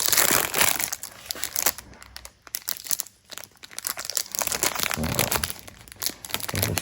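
A plastic bag of screws handled up close, with dense crinkling and crushing bursts of plastic that rise and fall and briefly go quiet midway, with no speech.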